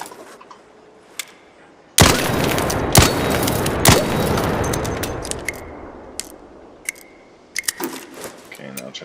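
Rapid video-game gunfire from a crouched position, the weapon fitted with a muzzle attachment: a dense, loud burst of shots kicks in suddenly and holds for several seconds before tapering off, followed by scattered sharp clicks.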